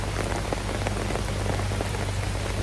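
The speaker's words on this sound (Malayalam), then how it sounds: "ഇവിടെയൊക്കെ ഭയങ്കര മഴ" Heavy rain pours down around a rubber latex factory area, a dense, continuous, close patter of drops hammering surfaces without a break, with no voices.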